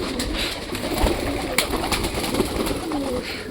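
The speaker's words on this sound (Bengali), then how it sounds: "অনেকগুলো পায়রাই বাইরে চলে এসছে" Several native pigeons coo outside their loft, low throaty calls repeating and overlapping close by, with light rustling and movement around them.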